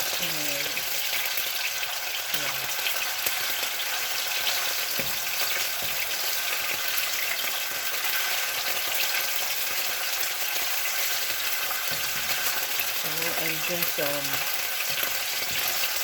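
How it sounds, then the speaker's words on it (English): Steady, loud sizzling of codfish frying in hot oil fills the whole stretch, with occasional clinks and a brief voice underneath. "frying the codfish"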